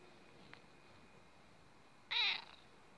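A cat meowing to demand breakfast, giving a single loud, drawn-out meow near the end after quiet room tone and a faint short chirp earlier, close by.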